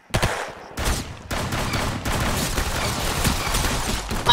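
A double-barrel shotgun fires repeatedly in the Roblox game Arsenal, with loud blasts amid a dense, continuous clatter of gunfire and in-game combat noise.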